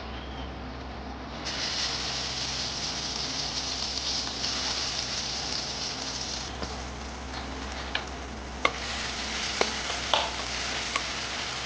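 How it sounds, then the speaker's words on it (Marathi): Masala sizzling in a hot pan for a bhaji, a steady broadband hiss starting after a moment and continuing, with a few sharp ticks of a spoon stirring against the pan near the end, no talking. "आता आपण त्याच्यामध्ये टाकूया मसाला."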